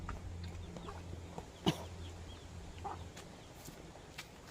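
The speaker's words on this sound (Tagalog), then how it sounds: "O, nanunuka." Chickens cluck softly and intermittently at a distance, with faint scattered pecking and rustling in a quiet outdoor yard.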